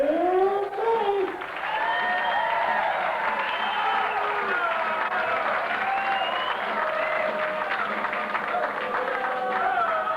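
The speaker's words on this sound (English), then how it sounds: "Great round of applause you got, Chuck." Sustained audience applause and cheering fills a crowded room at a ski fundraiser event, steady and loud throughout with a crowd roar rising over the clapping.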